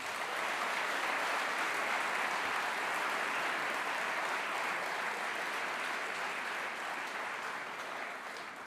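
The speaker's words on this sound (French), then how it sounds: "N'hésitez pas à les applaudir également." Steady, dense applause from an audience at an awards ceremony for game shops, sustained throughout and tapering slightly at the end.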